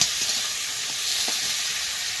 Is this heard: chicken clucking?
no